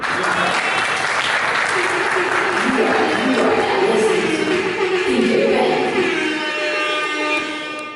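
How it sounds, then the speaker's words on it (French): Guests at a 60th birthday celebration applaud together, a dense, steady burst of clapping that carries on for several seconds with voices and murmuring underneath before tapering slightly at the end. "Est-ce qu'on peut applaudir pour ça?"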